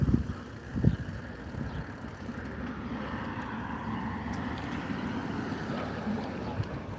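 Riding a Schwinn Captain Marvel fixie single-speed bike through downtown Las Vegas gives steady wind rush and low rolling rumble, with a couple of soft knocks near the start.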